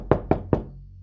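Three firm knocks strike a door in quick, evenly spaced succession, close and loud, followed by silence.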